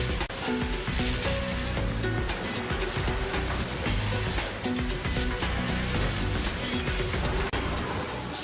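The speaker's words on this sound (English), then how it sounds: "Clamping, squeezing and spot welding the body shell." Factory robots spot-welding a steel Nissan GT-R body shell: a dense, steady crackle and sizzle of welding over continuous industrial machinery hum and a tonal background bed, loud and unbroken throughout.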